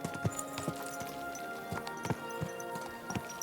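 Horse hooves clip-clop at a steady walking rhythm in Kingdom Come: Deliverance II, over a dense, busy background hum with faint distant clatter.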